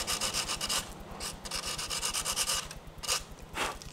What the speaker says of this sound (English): So first I'm going to scuff it up just a little bit with some 80 grit sandpaper.